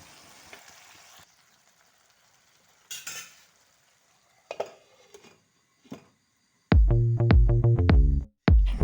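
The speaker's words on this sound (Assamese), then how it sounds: "ডিম 2টা দি ভালদৰে মিহলাই ল'ম" Eggs being stirred into an egg curry in a pan: a faint sizzle, then sporadic scrapes and taps of a utensil, ending in loud, ringing metallic clanks against the pan.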